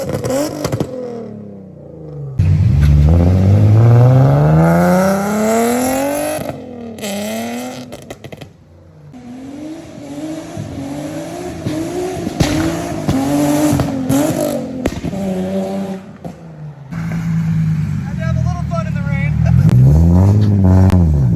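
An Infiniti G37 with a resonated Y pipe exhaust revs repeatedly, giving loud, deep surges that climb and fall back to idle, heard close up.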